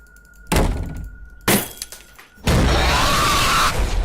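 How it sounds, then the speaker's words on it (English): Loud glass breaking as a sound effect, three sharp crashes about a second apart, with the last one longest, a sustained shattering spray that rings on for more than a second. "Sounds like they're breaking like 19 pounds of glass."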